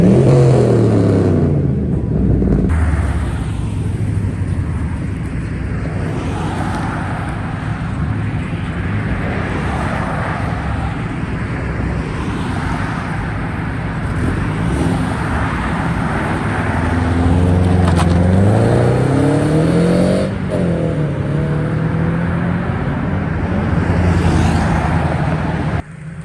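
A loud car revs hard as it pulls away from a car meet, its engine note sweeping up and down through repeated bursts over a steady roar of surrounding traffic noise.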